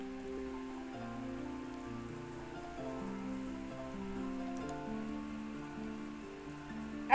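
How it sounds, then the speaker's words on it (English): Rain falls in a steady, soft hiss beneath sustained gentle musical tones, with a sudden louder hit right at the end. "As Angie slept, she was wrapped in the sound of the rain."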